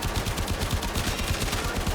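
Rapid bursts of video game weapon fire from the Kuva Brahma explosive bow, with repeated explosive thumps in quick succession, dense and continuous, at moderate loudness.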